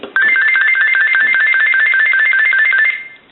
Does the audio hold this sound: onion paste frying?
no